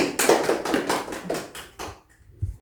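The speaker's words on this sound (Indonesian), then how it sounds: "Mari kita tepuk tangan ke kalian semua." Eighth-grade students in a classroom clap together in a quick burst of about eight close, loud, irregular claps lasting under two seconds, followed by a couple of faint trailing taps.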